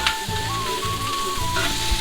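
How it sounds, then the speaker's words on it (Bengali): Chopped onion and green chili fry in hot oil with already-fried fish in a pan, sizzling steadily and loudly up close with stirring scrapes throughout, no voices. "এখন এইগুলি আর একটু ভাজা ভাজা করে তারপর দিয়ে দিব আদা"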